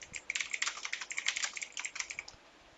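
Rapid, close clicking of fingers typing on a computer keyboard while writing a name into a Word document, a quick irregular burst of keystrokes that trails off near the end, no talking.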